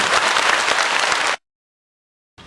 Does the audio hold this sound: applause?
yes